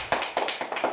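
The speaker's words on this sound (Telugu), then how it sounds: "క్లాప్స్ ఇవ్వండి మేధాకి" Children clapping for a classmate during a letter-matching game, a quick run of four or five sharp claps in about a second, close and fairly loud.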